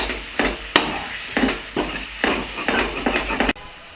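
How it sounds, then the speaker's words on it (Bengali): Masala with chopped tomatoes and a little sugar is stir-fried in a pan. A spatula scrapes in repeated bursts over a close, hissing sizzle, then the sound cuts off abruptly near the end. "দিয়ে এবার মশলাটা ভাজাভাজি করব"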